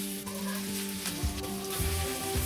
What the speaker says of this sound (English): Heat the nonstick pan and add some oil for shallow fry.